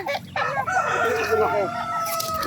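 A rooster crows loudly and close by, with chickens clucking around it.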